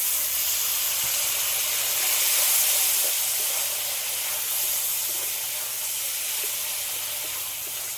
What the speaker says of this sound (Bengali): সামান্য পরিমাণে একটু জল দিয়ে দিচ্ছি